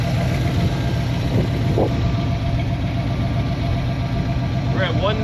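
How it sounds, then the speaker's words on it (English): A Ford Mustang Foxbody engine idles with a steady, low rumble, continuous and close, while a person talks briefly over it. "Been idling now for, I don't know, 10 minutes."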